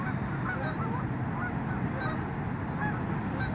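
Geese at Santa Ana River Lakes give a few short honks, scattered and fairly distant, over a steady outdoor wash of wind and water.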